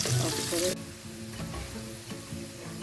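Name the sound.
onions frying in a pan over medium heat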